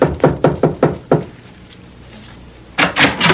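Knocking on a door as a radio drama sound effect: a quick run of about six firm raps, a pause, then a few more knocks, loud and close.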